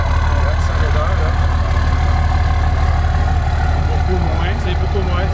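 A car engine idles with a steady, loud, low drone that holds unchanged throughout, with voices faintly mixed in.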